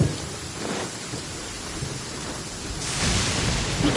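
Heavy rain pours in a Genshin Impact thunderstorm, with low thunder swelling near the end, loud and continuous with no speech.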